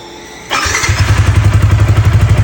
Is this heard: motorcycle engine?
yes